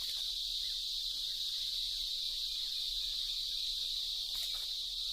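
Cicadas in an Indian forest keep up a steady, monotonous high-pitched chorus that drones without pause. It is moderately loud, with no voices over it.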